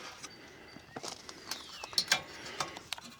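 Snap from a 1972 Briggs & Stratton 4hp engine on a Dayton 1500 watt generator: faint, sharp mechanical clicks and ticks scattered over a quiet background, with a few louder snaps near the middle.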